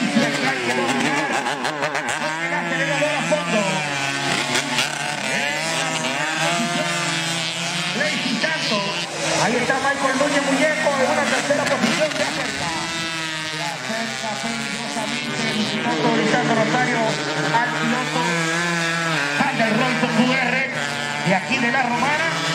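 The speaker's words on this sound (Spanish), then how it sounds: "Motocicleta que tienen el sonido, el rugir que le gusta al público." 135cc racing motorcycles roar in a steady, droning engine chorus during a championship race, heard continuously beneath loud Spanish-language commentary.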